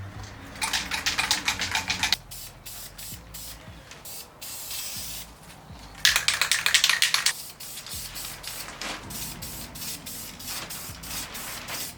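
A spray paint can is shaken in bursts of rapid rattling clicks, close and loud, with quieter hissy pauses between, while refinishing an Acura TSX valve cover outdoors.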